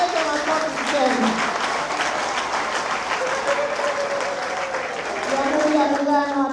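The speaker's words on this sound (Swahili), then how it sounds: "Naomba tuongeze makofi tena." Sustained applause fills a hall at a Tanzanian health ministry announcement, a thick, even clatter of many hands continuing throughout while voices speak over it.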